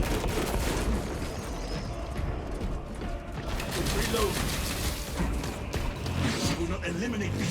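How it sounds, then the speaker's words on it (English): Defensive cannons fire in a Space Marine 2 battle against Tyranid swarms, with dense rapid mechanical bursts and clattering blasts running continuously under game effects and voice talk. "We will not eliminate these Xenos without using the cannons."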